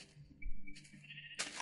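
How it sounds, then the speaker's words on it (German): A sheep bleats in the Minecraft video game, short wavering calls over low game background sounds, ending in a brighter burst of noise. "Stirb, du Schaf!"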